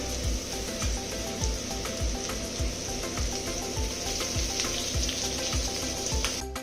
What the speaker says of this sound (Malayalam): എന്നിട്ട് അതൊന്ന് ഇളക്കാം.